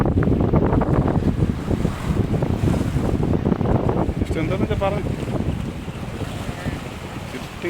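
Wind buffets the microphone over a steady wash of sea waves on Azhikode beach in Thrissur, a loud continuous roar with no clear break.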